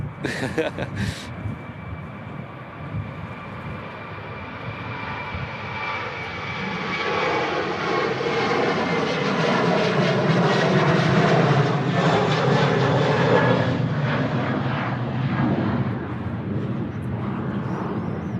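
A fixed-wing airliner's engines roar at Manchester Airport, a broad, steady rush that swells louder through the middle and lingers as the aircraft passes, with wind noise and voices nearby.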